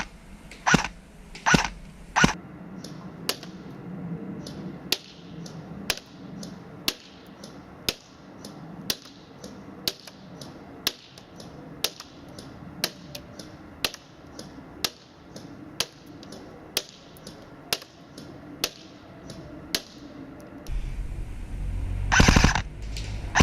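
ASG Bren 805 A2 airsoft gun firing 0.25 gram BBs outdoors at a 30 metre target from a prone position, about twenty sharp single shots spaced roughly a second apart over quiet ambience, ending in a burst of rustling handling noise.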